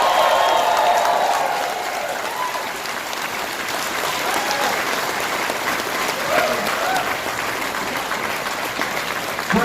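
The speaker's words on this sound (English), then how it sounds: "just a big round of applause to our cast" An audience at a live script reading breaks into sustained, loud applause for the cast, a dense continuous clapping that fills the room throughout.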